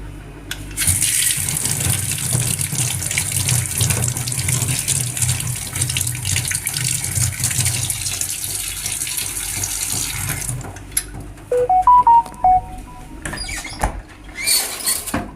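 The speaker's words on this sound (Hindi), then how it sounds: "इसको मैं धो के छीलती हूँ" Tap water runs steadily onto a cucumber-like vegetable being washed in a sink, a continuous splashing rush that stops near the end, followed by a few handling knocks and clatters.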